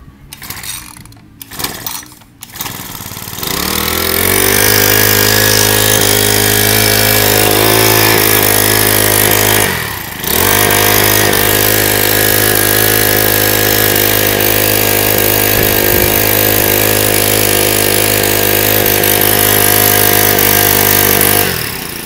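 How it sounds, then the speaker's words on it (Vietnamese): A mini water pump's Cosin four-stroke engine, model Q4, is pull-started with a few sputters, then catches and runs at a steady loud hum close by, with one brief dip partway through. "tiếng nổ của động cơ của 4 kỳ của Cosin thì rất là êm"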